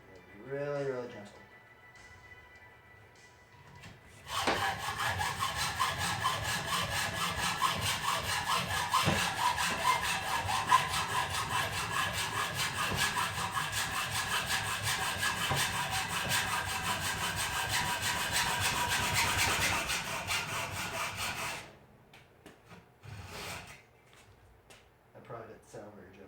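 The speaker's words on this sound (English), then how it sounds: "when you're hacksawing this, be kind of really gentle" A hacksaw cuts a DIY BMX brake tab in gentle, steady back-and-forth strokes, a close rasping rhythm lasting about seventeen seconds, with brief talk before and after.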